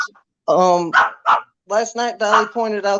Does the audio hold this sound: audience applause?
no